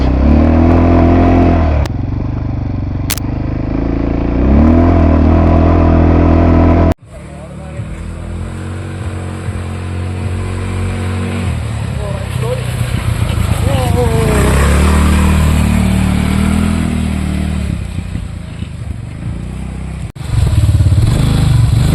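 An ATV engine drones steadily and loudly at an activity spot near Varkala, with a brief cut partway through, as people talk over the running motor.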